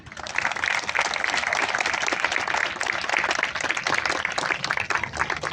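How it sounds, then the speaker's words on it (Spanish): Audience applause at a comic book presentation during a national comics festival fills the room, dense and continuous clapping heard from within the crowd. "Les despedimos con un fuerte aplauso."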